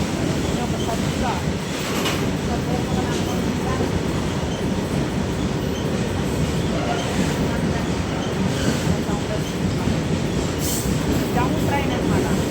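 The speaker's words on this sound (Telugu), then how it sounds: "డౌన్ ట్రైన్ ఇప్పుడే మనం చూడండి ఫ్రెండ్స్" A down train passes close by in a continuous, loud rumble with rolling wheel noise and brief squeal-like accents, with no pause throughout.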